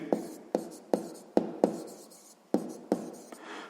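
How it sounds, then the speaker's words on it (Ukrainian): A pen writes on paper while solving a sixth-grade math exercise, with about eight distinct quick scratchy strokes arriving in an uneven rhythm, close and fairly quiet, with no talk. "Записуємо, оскільки."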